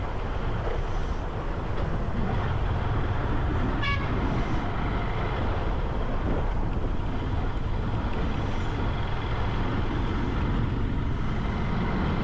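A train rolls past a railway crossing in a continuous, loud rumble with clattering wagons, and a brief horn toot sounds early on. No voices.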